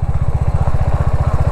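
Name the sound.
motorcycle riding on a dirt road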